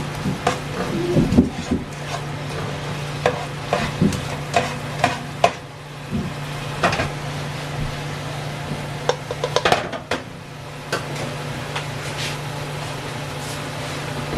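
Sauce bubbles and sizzles in a pan on medium heat as green onions go in, a soft steady fry broken by frequent sharp clinks and scrapes of a utensil stirring against the pan, without any talking.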